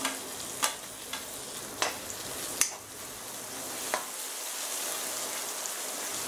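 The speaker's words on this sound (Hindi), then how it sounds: "ये भी अच्छी तरह से हम एक मिनट तक ऐसे सौते करके लेंगे।" Tomatoes sautéing with onion and green chili in a pan on a low-to-medium flame, a steady close sizzle punctuated by several sharp scrapes and taps of a spoon stirring, no talking.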